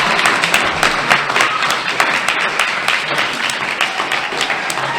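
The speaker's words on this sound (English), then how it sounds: "Huge rounds of applause from the crowd for both fighters." Crowd at a boxing match applauding both fighters after the round, loud dense clapping with scattered cheers from many people, sustained throughout.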